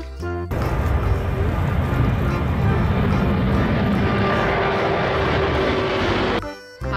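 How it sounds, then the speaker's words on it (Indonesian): An airplane produces a loud, continuous roaring drone that holds steady for several seconds before cutting off near the end. "Wow, pesawat terbang."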